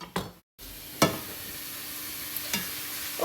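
Mushrooms frying in a pan and stirred now and then, a soft steady sizzle broken by a few distinct scrapes and clanks of the utensil, close and alone without talk.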